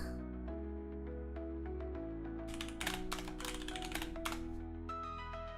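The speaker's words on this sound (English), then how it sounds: "Typing machine is just my Razer Chroma White keyboard." Typing on a Razer Chroma White keyboard: a run of crisp key clicks in the second half, set against steady tonal background music.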